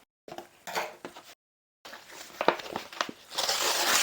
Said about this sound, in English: I'm going to use scissors here, try to cut it open.